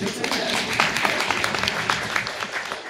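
An audience at an ADA update training session claps, a steady, fairly loud patter of many hands lasting a few seconds with no voices over it.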